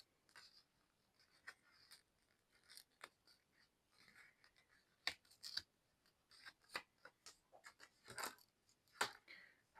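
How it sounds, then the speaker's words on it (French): Scissors scrape and tear along the edge of thin paper in a quiet room, a series of soft irregular scratching and snipping strokes, some sharper and louder than others, close up with no voices. "Alors avec les ciseaux, on gratte un petit peu le bord."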